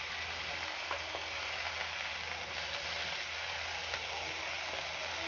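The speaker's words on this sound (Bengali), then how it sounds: "চিকেনটা ভালো করে নেড়ে নিচ্ছি" Minced chicken with chopped garlic stir-fried in a pan, a steady soft sizzle with faint scraping strokes running throughout, moderately quiet and with no voices.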